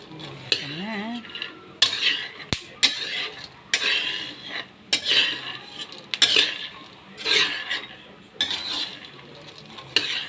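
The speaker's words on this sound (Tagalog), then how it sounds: "magbubusa po tayo ng mani" Dry peanuts in a pan without oil are stirred and scraped in repeated bursts, each stroke a rattling, scratchy sweep of nuts against metal, fairly close and loud, with short pauses between strokes.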